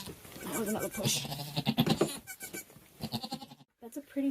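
A nanny goat and her just-born kid call to each other, close bleats overlapping and alternating over a few seconds, mixed with nearby people talking.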